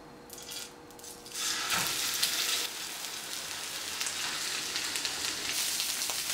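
Salmon fillet set skin side up in hot olive oil in a pan, giving a steady, soft frying sizzle with crackling spatter that swells after the first second and stays even throughout, with no voices.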